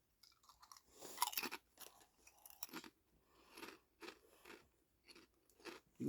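Fried egg flavored potato chips from a Spanish snack crate crunched up close, a run of irregular crisp bites and chewing, quiet and close, with no talk over them.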